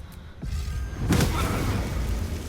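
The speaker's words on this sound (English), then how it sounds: "so we'll throw some Rays of Fire at them" A Ray of Fire spell in Baldur's Gate 3 strikes with a soft whoosh and a thudding boom, trailed by a sustained crackling rumble.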